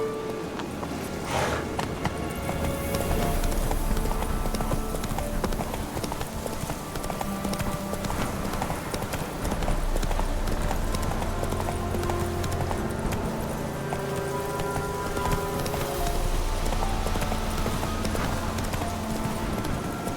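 A horse gallops in The Witcher 3, its hooves drumming in a steady, continuous clip-clop that runs throughout beneath the game's background music.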